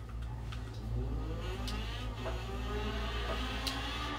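A car engine droning and revving inside a tunnel in the Forza Horizon racing game, a continuous loud hum with a steady low rumble and faint rising tones throughout.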